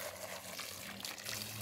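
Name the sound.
water poured onto clay garden soil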